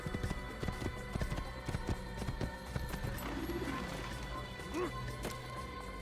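Rhythmic clip-clop of horse hooves at a steady gallop in the video game Assassin's Creed, loud and close, with scattered thuds and a brief snort or whinny near the end.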